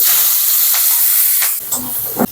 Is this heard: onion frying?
yes